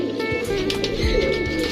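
Caged pigeons at a pigeon farm coo in low, soft, rolling notes close by, with a steady hum of background noise in the building.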